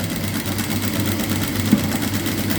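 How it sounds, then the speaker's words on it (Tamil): A sewing machine runs a straight line of stitches at a slow, steady pace. Its close, even mechanical whirr and rapid rhythmic ticking hold throughout, with one small knock near the end. "பொறுமையாகவே 5லேயே வச்சு நேர் கோடு தைங்க."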